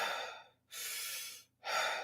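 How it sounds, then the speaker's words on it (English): Deep breaths taken while resting between weightlifting sets: three long, airy inhale and exhale sounds, close and fairly loud, separated by brief silences. "I'll take 10 deep breaths"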